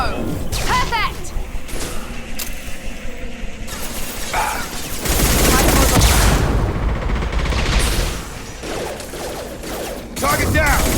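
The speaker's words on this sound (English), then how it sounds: "Shotgun!" Shotgun blasts and other gunfire crash through a Mass Effect 2 firefight in loud, irregular bursts and impacts, with voices talking over the combat.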